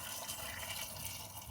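Boiling water is poured over cucumbers for quick pickles, making a steady, close, rushing splash without pause and with no talk.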